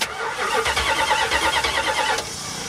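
A 1979 Dodge Magnum's 383 engine cranks over steadily for a couple of seconds, a close, even rhythmic churning of the starter turning the motor without it catching, ending abruptly.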